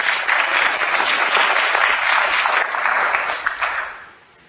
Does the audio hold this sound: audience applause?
yes